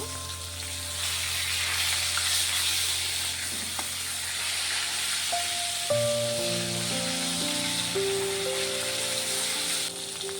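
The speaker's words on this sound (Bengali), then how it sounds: "ইলিশ মাছের মাথাটি ভেজে নেব।" Hilsa fish head frying in hot oil seasoned with salt and turmeric, a steady loud sizzle and hiss that runs throughout, with occasional spatters and faint clinks of a utensil, no talk.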